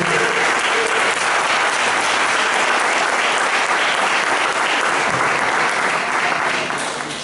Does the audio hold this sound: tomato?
no